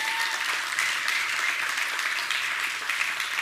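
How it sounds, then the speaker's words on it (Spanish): A church congregation applauds the mothers standing during a Mother's Day service, a steady, full wash of many hands clapping at once, even in level from start to finish. "dale un aplauso otra vez"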